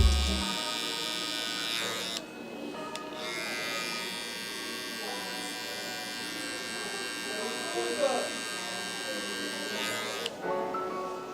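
Electric hair clippers buzz steadily close by while cutting a fade with the lever partly closed. The tone is a continuous high-pitched motor hum with brief dips as the blade lifts and meets the hair.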